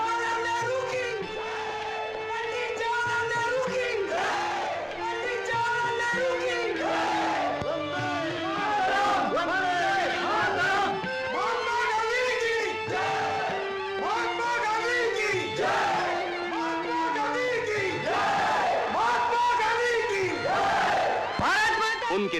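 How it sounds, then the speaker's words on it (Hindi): A vast Bombay crowd cheers and chants slogans in praise of Mahatma Gandhi at the harbour, a dense, continuous roar of many voices with rhythmic shouted calls rising and falling throughout, loud and close. "तूफानी लहरों की तरह ये इंसानी समंदर महात्मा गांधी के पीछे उनकी जय जयकार के नारे लगाते हुए उनके दर्शन के लिए मचल रहा है।"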